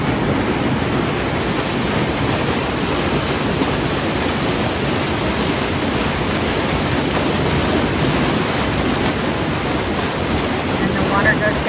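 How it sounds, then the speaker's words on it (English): Spring water at Alley Spring Mill near Eminence, Missouri flows down into the river, a loud continuous rushing roar mixed with wind buffeting the microphone, steady throughout. "And the water goes down into the Jackpot's River."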